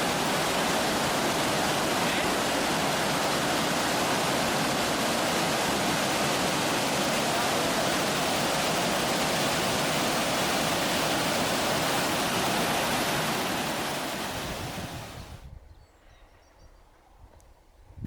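Torc Waterfall outside Killarney, Ireland, roars as a dense, steady rush of falling water that holds at full strength for about fifteen seconds and then cuts off abruptly to near quiet.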